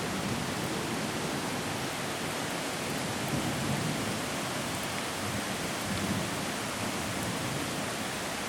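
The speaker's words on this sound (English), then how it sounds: "check out the spring rains and storms we're having" Heavy spring rain pours down steadily during a storm near a backyard creek, a dense, loud, unbroken wash of noise that holds constant throughout.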